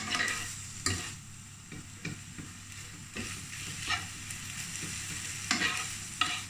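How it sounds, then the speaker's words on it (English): Minced meat browning in a frying pan with onion, stirred by a utensil that scrapes and clacks at irregular intervals over a steady close sizzle. "I'm just going to stir this mince to make sure it's all brown"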